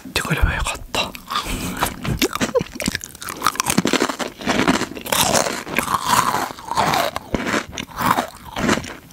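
Close, loud crunching and chewing of crunchy Korean snacks in an ASMR setting, with repeated bites and wet mastication in uneven bursts, and soft whispered talk in between.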